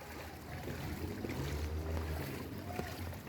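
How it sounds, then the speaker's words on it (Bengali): Steady wading through knee-deep flood water on a rain-flooded road produces continuous low sloshing and swishing, close and fairly even throughout, with no talking. "অনেক বছর পর এই হাঁটুর সমান পানিতে হাঁটতেছি"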